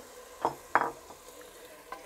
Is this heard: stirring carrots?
yes